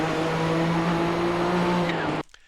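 Nissan GTP ZX-T race car engine at full throttle in iRacing on the Nürburgring Nordschleife, a loud steady high-revving drone with strong harmonics and faint tire scrub, cutting off abruptly near the end.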